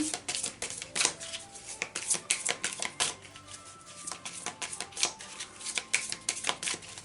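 Tarot cards shuffled by hand, a rapid run of crisp papery riffles and flicks in quick irregular bursts, fairly quiet and close with no talking.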